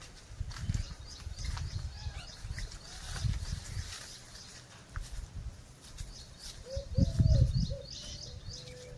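Birds chirp and tweet in short bursts with an echoing, enclosed quality inside a cave at a temple site, with bats flying about, over low rumbling noises and scattered thumps.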